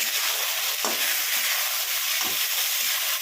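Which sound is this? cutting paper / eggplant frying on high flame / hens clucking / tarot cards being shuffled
eggplant frying on high flame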